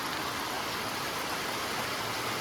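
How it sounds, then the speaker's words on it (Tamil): Heavy rain falls on a rural estate in Munnar, making a dense, constant hiss with no breaks and no voices. "பயங்கரமான மழைங்க. சத்தம் கேட்குதா?"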